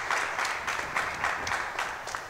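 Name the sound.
applause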